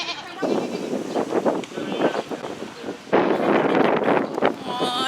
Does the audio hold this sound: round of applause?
no